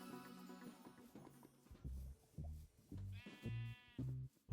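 A Minecraft donkey brays quietly in a series of short, nasal, bleating calls, spaced unevenly, with light hoof-like clopping between them and no talk.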